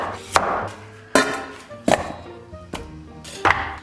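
A cleaver chops through frozen pork belly on a board in four sharp, loud, evenly spaced thwacks, each with a brief ringing decay, nothing else heard.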